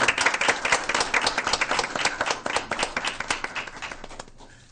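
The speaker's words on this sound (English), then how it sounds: "Let's give them a round of applause." Audience at a school board meeting breaks into a burst of dense applause, many hands clapping together, loud and sustained before fading out at the end.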